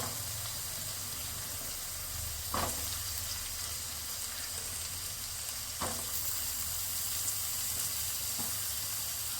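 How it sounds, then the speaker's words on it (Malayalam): Sliced onions sizzle steadily in prawn fat in a pan for a Kerala-style prawn roast, a constant close frying hiss with a few soft stirring clinks, no talk. "അപ്പോൾ അതിലേക്ക് നമ്മൾ സബോള ചേർക്കാണ്"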